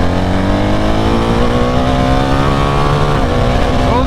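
A 2024 BMW R 1300 GS motorcycle accelerates hard from 60 to 130, its engine note climbing steadily and loud with a brief dip at a smooth upshift, a continuous close-up drone filling the whole stretch.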